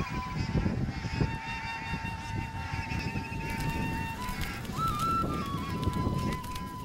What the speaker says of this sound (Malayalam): കുറിത്തലയൻ വാത്ത് എന്ന് വിളിക്കുന്ന ബാർ ഹെഡഡ് ഗോസ്.